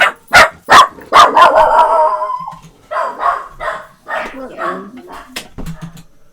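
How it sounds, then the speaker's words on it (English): Several active dogs bark in sharp, loud bursts near the start, with more yips and barks scattered through, alongside a person talking indoors. "I have very active dogs this morning"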